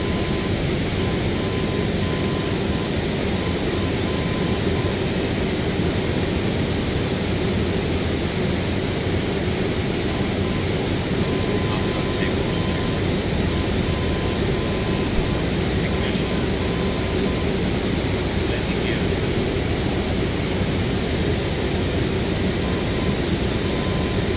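Loud, steady roar of a FedEx Boeing 727 jet climbing out after takeoff from Miami, heard from inside the cockpit as a dense, unbroken engine and airflow noise that never lets up.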